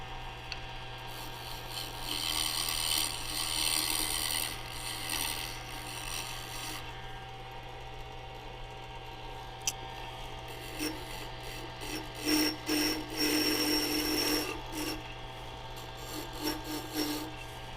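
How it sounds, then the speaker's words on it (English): A wooden turning template being finished and sanded by hand gives steady rasping and rubbing strokes, near and fairly loud, with bursts of quicker scraping over a constant low hum. "I'm going to do a little bit more finishing and then sanding."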